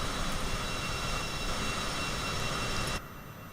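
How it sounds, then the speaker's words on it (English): A business jet idles loudly right beside a parked Cessna Grand Caravan, a harsh, roaring broadband engine whine that holds steady, then cuts to a muffled hum near the end as if a door closes. "that business jet next to us is loud"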